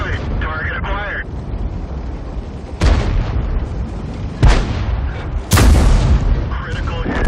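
Tank cannon fire in the World of Tanks video game, with a KV-5 in battle: several loud booming shots with sharp onsets and rolling tails, mixed with game voice announcements and engine rumble.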